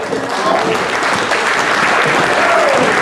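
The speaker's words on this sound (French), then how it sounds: "On peut les applaudir bien fort." A crowd at an evening event for volunteers claps loudly and steadily throughout a short burst of applause.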